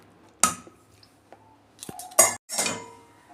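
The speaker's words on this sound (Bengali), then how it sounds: "ঢাকনা খুলছি" A cooking pot lid is lifted off a pot of chickpea and pea ghugni, heard as a few sharp metallic clanks and clinks with brief ringing tails, close and fairly loud, with quiet gaps between them.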